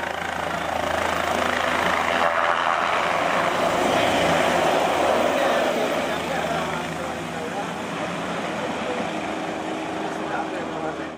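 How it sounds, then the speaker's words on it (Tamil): Helicopter on a sightseeing tour in Theni, a steady loud rotor and engine drone that continues without a break from start to finish. "தேனியில் அறிமுகப்படுத்தப்பட்டுள்ள ஹெலிகாப்டர் சுற்றுலா சேவையை பயன்படுத்திய பொதுமக்கள் பல தலங்களை ஹெலிகாப்டரில் சுற்றி வந்தனர்."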